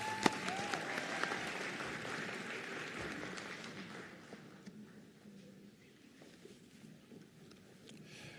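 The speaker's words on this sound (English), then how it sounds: "Another round of applause for them as they exit the stage." Sustained applause from an audience at a nursing college graduation ceremony as graduates leave the stage, steady dense clapping that thins and softens toward the end with faint background voices.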